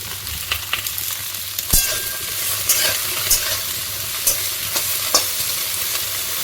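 Steady sizzle of okra frying in a pan with a spatula scraping and tapping at irregular intervals, close and fairly loud.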